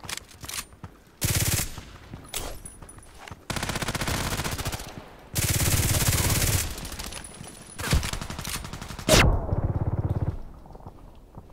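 Glock 18 automatic pistol fire in a video game, with several loud, rapid full-auto bursts separated by brief pauses.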